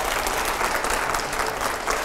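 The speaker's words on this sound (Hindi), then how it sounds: "जोरदार तालियां हो जाए प्लीज जरा।" Loud, dense applause from a studio audience at a Hindi panel discussion with Rakesh Tikait and editors, a continuous close roar of clapping with no pauses.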